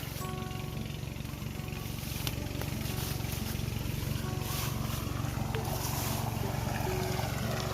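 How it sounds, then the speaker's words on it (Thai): Water gushes steadily from the end of a water pump hose in an outdoor setting. It makes a continuous broadband rush over the low, droning hum of the pump engine, with wind noise throughout. "น้ำไหลจกๆเลย"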